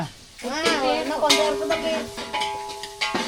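Cumin, dried red chilies and onion crackle and sizzle in hot oil for a South Indian tempering, with a spoon scraping the pan and a few brief clanks, close and moderately loud; a voice speaks over part of it.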